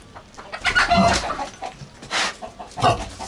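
Chickens cluck and chatter nearby in short, uneven bursts against a faint outdoor background.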